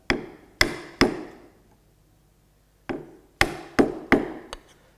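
A chisel chops into wood to cut a housing dado joint, with seven sharp, close, percussive strikes in uneven bursts and a short quiet gap between them.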